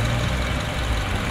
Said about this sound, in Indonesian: Mesin CRV Gen 2 ini K24 ya, enak loh ini, halus gitu ya